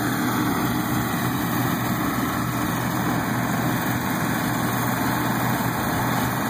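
A John Deere 7700 combine runs while harvesting a wheat field, giving a steady, unbroken engine drone with a constant mechanical hum and no voices.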